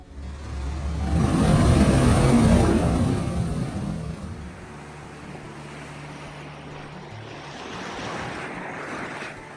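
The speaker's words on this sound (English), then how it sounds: "you can actually see and feel the water as it's pushed out of the engineered blowhole" Water forced out of an engineered blowhole on a Tahiti coastline, a surging roar that swells over the first seconds then subsides into a softer wash with a low hum beneath.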